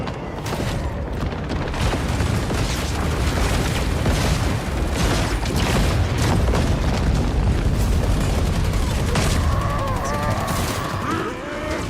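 Battle noise in a Warhammer 40k strategy game, dense continuous gunfire and booming explosions layered into a loud, chaotic roar that rolls on throughout, with a voice-like tonal sound near the end.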